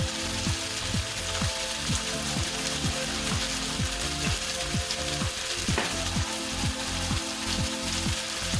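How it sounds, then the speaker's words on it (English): Potatoes with salt, pepper and garlic frying in a pan, giving dense continuous sizzling and crackling throughout, close and steady, with no talking. "You can hear the potatoes, how they're sizzling."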